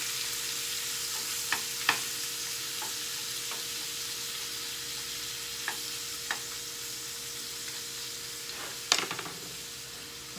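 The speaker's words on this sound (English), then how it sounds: "we're going to let our shrimp cook." Shrimp cooking in a hot wok hiss with a continuous sizzle, broken by occasional sharp pops and spatters, close by and with no one talking.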